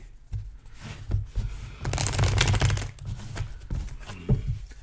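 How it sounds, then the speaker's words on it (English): Tarot cards shuffled clumsily by hand, a close run of riffling, flapping and tapping that swells into a dense rustle midway, then breaks into scattered slaps and shuffles. "Here, you can see me shuffle really badly."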